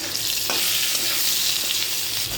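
A small amount of onion frying in oil for a fish curry, a dense, loud sizzle with light stirring scrapes, brief and continuous, no voices.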